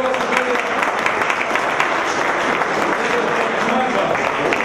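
Audience applause at a reflection circle gathering: a continuous, even wash of many hands clapping at close range, steady and loud for the whole stretch with some voices blended underneath.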